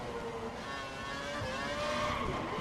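Race car engine in the F1 2012 video game, a sustained steady drone with wavering whine that rises slightly louder toward the end as the car spins out, heard alone without talk.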